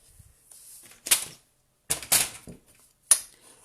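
Card stock being scored along fold lines, with a few short, sharp scraping strokes heard close up and separated by quiet pauses, no talking.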